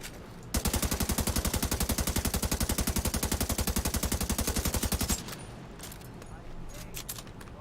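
Sustained rapid automatic gunfire from a weapon in The Division 2 video game, a dense even burst of shots lasting several seconds before cutting off abruptly, followed by quieter background game noise.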